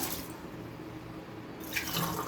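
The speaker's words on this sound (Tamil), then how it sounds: "ரெண்டு ரெண்டரை தண்ணி ஊற்றி" Water poured into a pot while cooking brinjal and potato kadaiyal, a soft splashing fill that runs steadily for about two seconds, close and fairly quiet, with no talk.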